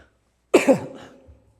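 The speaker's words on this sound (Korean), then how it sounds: "제가 설교를 하다가 계속해서 기침을 아마 하게 될 거예요" A single sharp cough from a preacher during a church sermon bursts out after a moment of silence, then trails off into quiet.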